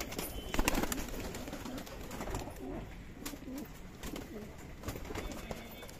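Pigeons cooing inside a loft, low throaty coos repeating in soft rhythmic phrases close by, with a busy background of rustling, a few wing flaps and other birds.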